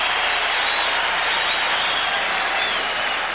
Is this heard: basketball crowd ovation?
yes